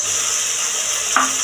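Coriander and mint are mixed into tomatoes in a pot for vegetable pulao over a steady, close sizzle, with one brief spoon scrape near the end.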